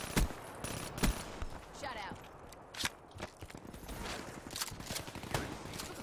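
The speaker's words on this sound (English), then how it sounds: "Yes, shotguns are broken, dude." Shotgun gunfire in a first-person shooter game, heard as several sharp bursts spread across a busy mix of game effects and footsteps, with a player talking over it.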